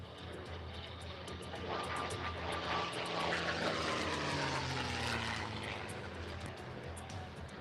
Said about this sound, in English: Quite the difference in the sound between the mighty Mustang and that Rolls-Royce V12 Merlin engine